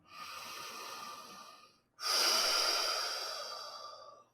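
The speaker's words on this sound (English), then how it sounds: "And take a big deep breath." A single deep breath: a long, close airy inhale of about two seconds, a short pause, then a fuller, louder exhale that fades out slowly, with no talking.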